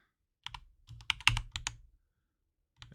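Quick bursts of keystrokes on a computer keyboard, close and clear, in two short clusters separated by a pause, with a few more taps at the end.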